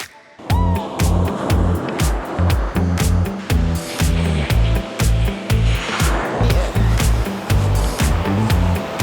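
Surf washing onto a beach in a small sheltered cove with soft sand, a steady near roar with rolling swells in loudness and no one speaking.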